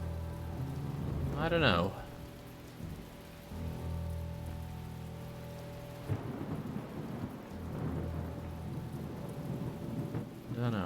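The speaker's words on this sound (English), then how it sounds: "I really like games that have good rain. Is this rain good?" Steady rain pours down in The Talos Principle, with a loud rumble of thunder early and another rolling rumble later, while someone speaks briefly over the downpour.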